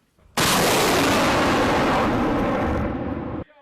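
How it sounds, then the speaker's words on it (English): Heavy artillery bombardment on the front line at Kunduz, Afghanistan, one sustained, loud, close roar of fire and blast that rumbles on for about three seconds before cutting off abruptly. "But on the front line at Kunduz this morning, there was no let-up in the bombardment"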